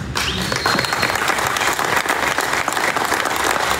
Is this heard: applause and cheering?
yes